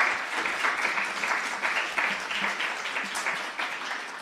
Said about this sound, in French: Applaudissez-les tous les trois, s'il vous plaît